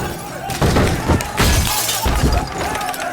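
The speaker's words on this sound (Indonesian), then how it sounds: "Mereka juga memecahkan kaca-kaca pintu" Glass door panes are smashed in a loud, close burst of shattering with several crashing impacts and scattering debris, with voices in the background.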